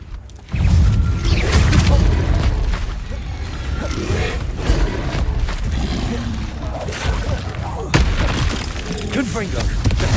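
Spell blasts in the video game Hogwarts Legacy: a heavy boom starts the barrage, then rumbling, crackling impacts continue with another sharp hit later, while a voice speaks over the combat.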